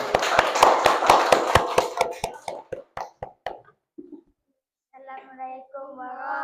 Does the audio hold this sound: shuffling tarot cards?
no